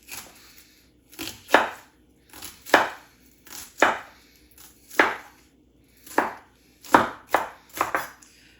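Knife chopping onion on a board for a bean salad, in short bursts of close, crisp cuts roughly every second, alone without talk.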